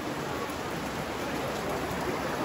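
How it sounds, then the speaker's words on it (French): Steady rain falls outdoors during a Swiss national day celebration on 1 August, heard as a continuous, even wash of patter with no pauses. "montre la pluie qui tombe"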